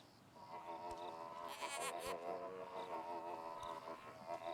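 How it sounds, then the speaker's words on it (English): Goats bleat in a video game, several overlapping wavering calls that carry on steadily at moderate volume over soft ambient game sound. "Oh, hello, goats."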